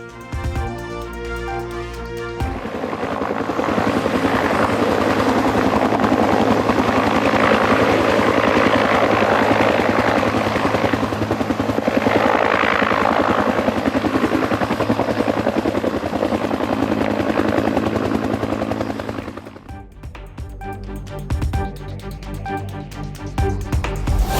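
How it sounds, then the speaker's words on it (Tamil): A security forces helicopter conducting a search operation roars steadily overhead, loud and close, its rotor drone filling the scene before easing off near the end. "கிரா நகரில் ஹெலிகாப்டர் மூலமாக பாதுகாப்பு படையினர் தீவிர தேடுதல் வேட்டை."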